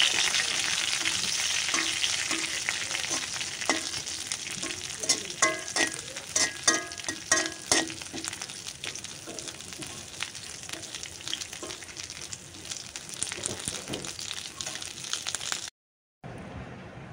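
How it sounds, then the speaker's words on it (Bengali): Hilsa fish tail fries in oil with garlic, onion and chilli, a loud close sizzle crackling throughout with frequent sharp spatter pops and stirring clatter, cutting off abruptly near the end. "আর অল্প একটু ভেজে নিব। হালকা বাদামি হয়ে গেছে, রসুন পেঁয়াজ মরিচগুলাও হয়ে গেছে"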